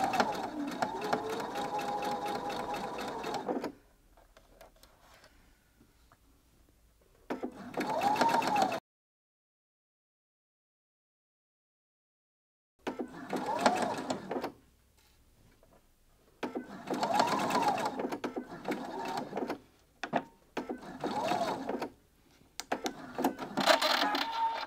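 A sewing machine stitches bias binding around curves in bursts of steady mechanical whirring, stopping and starting as the fabric is turned, with a few seconds of full silence partway through and a little quiet movement between runs.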